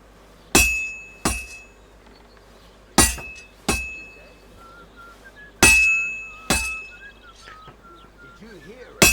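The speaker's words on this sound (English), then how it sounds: "if it was all about hitting an anvil with a hammer, any dolt could do it" Metal hammer blows on a sword workpiece at an anvil in Kingdom Come: Deliverance 2: six sharp ringing clinks in uneven pairs, close and loud, each decaying into a faint metallic ring over a quiet background.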